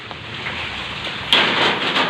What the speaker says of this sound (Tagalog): Kahit na ulan. Basa yung ating camera.